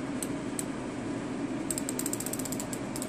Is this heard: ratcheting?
yes